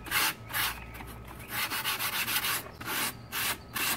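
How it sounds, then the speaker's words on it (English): Sandpaper rubs steadily over a foam utility pole prop, a dry scratchy rasp repeating in quick back-and-forth strokes, close and fairly loud, with no voices. "Some sandpaper next."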